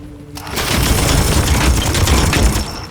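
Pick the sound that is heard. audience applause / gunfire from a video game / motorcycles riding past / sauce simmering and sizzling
gunfire from a video game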